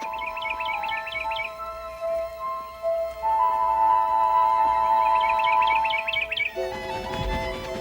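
A small bird in a fairy-tale woodland chirps in two quick bursts of high repeated tweets, fairly clear against a soft continuous musical background, with no talking.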